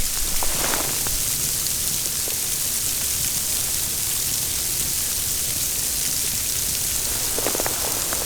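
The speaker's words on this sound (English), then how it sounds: "You may be able to hear it snowing now." Snow and sleet falling steadily in Appalachian woodland in West Virginia, a constant soft hiss of precipitation striking leaves and ground, with a few faint ticks and taps, heard alone without talk.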